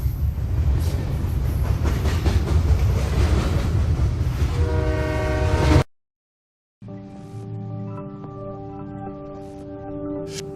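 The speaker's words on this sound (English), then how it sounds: "a faint chown the train approaching, getting louder and louder" A train rumbles closer and grows louder, its horn sounding in steady tones, then a brief silence before the horn continues more faintly.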